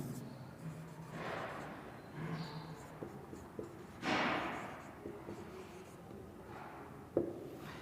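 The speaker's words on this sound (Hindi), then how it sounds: "चौथा नंबर लिख देता हूं" A pen writes numbers on paper in several distinct scratchy bursts of strokes, close and fairly clear, with a faint voice murmuring briefly in between.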